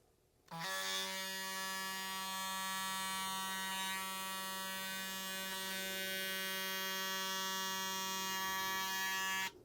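An Andis Recon hair clipper switches on and its motor runs for about nine seconds with a loud, steady, high-pitched electric buzz. No one speaks.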